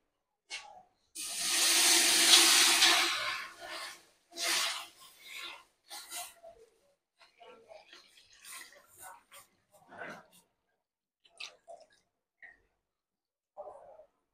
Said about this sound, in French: Notre grosse marmite est bien chaude maintenant. On va ajouter le lait